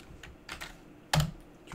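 Keyboard shortcuts typed on a computer keyboard, control and backspace: a few soft, light key taps followed by one sharper, louder keystroke, close and quiet, with no talking.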